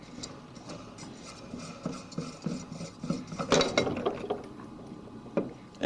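An impeller being unscrewed counterclockwise off the shaft of a Pentair WhisperFlo pool pump gives a string of close, irregular metallic clicks and scrapes, growing louder toward the end, with no talk.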